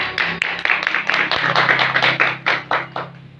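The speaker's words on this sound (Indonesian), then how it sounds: "Beri aplaus untuk kelompok 1." A small classroom audience applauds a student group after its presentation, a short run of close, distinct hand claps in an uneven rhythm, loud and mostly alone.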